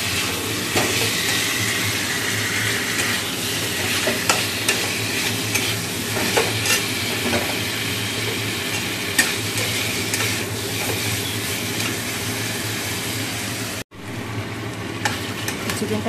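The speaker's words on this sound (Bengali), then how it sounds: "মশলাটা কষা হয়ে গেছে, চিকেনটা দিয়ে দিলাম।" Chicken sizzles loudly in a pan with cooked-down spices and onions, stirred continuously with repeated scraping strokes, with no voices and one brief break near the end.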